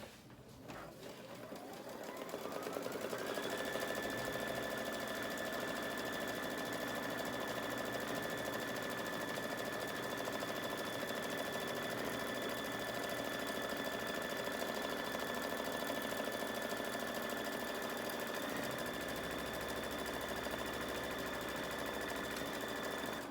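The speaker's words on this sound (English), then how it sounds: "the first step is just gonna be to do a placement stitch right on the, on the stabilizer" Embroidery machine sewing a placement stitch on stabilizer for a medical mask: the motor spins up over the first few seconds, then holds a steady close whirring hum with a fast needle chatter throughout.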